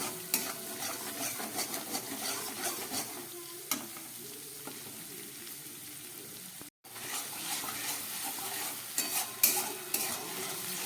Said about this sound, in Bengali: দু চামচ টক দই দেওয়া হয়ে গেছে, এবার একটু কষিয়ে নিচ্ছি